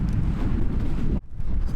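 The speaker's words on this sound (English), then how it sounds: "Especially windy because we're next to the ocean" Strong gusty ocean wind roars and buffets the microphone in a low, steady rumble, dropping out briefly before surging back.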